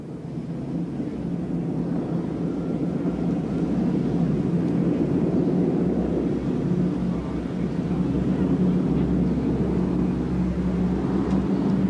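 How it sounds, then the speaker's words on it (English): A North American Harvard trainer aircraft flies at an air show, its steady propeller engine drone continuous and fairly loud throughout, with some wind rumble. "The North American Harvard was New Zealand's most widely used trainer."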